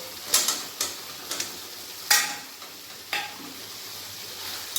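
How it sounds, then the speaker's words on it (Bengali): Fried paneer pieces being stirred with spices in a pan, heard as a soft background sizzle broken by about half a dozen sharp scraping clinks of a spatula against the pan, fairly close and quiet. "পনিরের টুকরোগুলো দেওয়ার পরও দু তিন মিনিটের মতো আমি কষিয়ে নেবো পনির মশলার সাথে"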